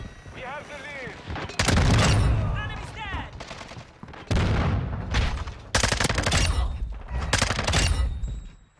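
Rapid bursts of submachine gun fire from a Hurricane SMG in the game Modern Warfare 2, several loud sustained volleys separated by short pauses, with a voice heard at the start.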